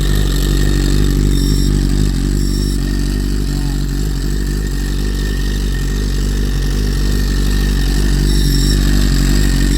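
A BMW S1000RR motorcycle fitted with an STM dry slipper clutch runs steadily nearby, a loud continuous engine drone with a mechanical clatter from the dry clutch.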